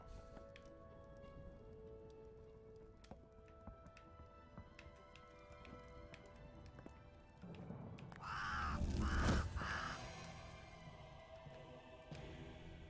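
A crow caws in the fantasy strategy game Wartile, a few harsh calls rising over busy game music and effects, loudest in a burst near the end.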